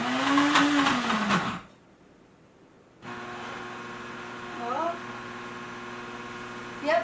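An Instant Ace Plus blender grinds almonds into almond butter, a steady motor hum with tonal whine that cuts out briefly, then restarts and labours on; a voice is heard briefly at the start.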